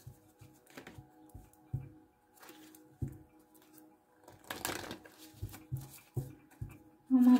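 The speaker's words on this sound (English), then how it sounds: "I'm shuffling for a long time." Tarot cards are shuffled in a quiet room, soft irregular riffles and taps coming in small bursts, with a denser flurry midway and a short louder sound at the end.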